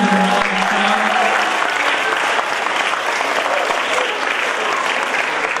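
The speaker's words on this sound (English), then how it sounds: "I also want to give a big round of applause to our fantastic MCs, so Eliza and Richard." A large school assembly crowd at a Lunar New Year celebration applauds loudly and continuously, dense clapping that holds steady from start to finish.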